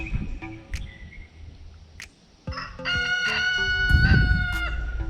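A rooster crows loudly nearby, a long harmonic call rising and falling, with some clucking and faint background noise before it.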